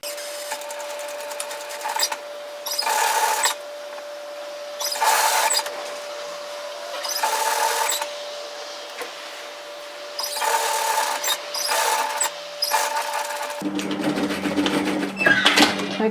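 Sewing machine stitching through the folded-back zipper edge of a Maria bomber-style varsity jacket, in several rapid mechanical bursts separated by pauses, close and moderately loud, with a different whirring machine tone at the end.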